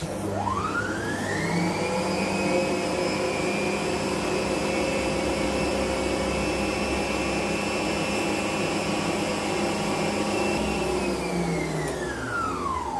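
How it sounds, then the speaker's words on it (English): Electric hand mixer running steadily at medium speed, beating butter and shortening for buttercream in a bowl; a continuous loud motor whine spins up at the start and winds down near the end, with no talking. "So I've been mixing for about 30 seconds now."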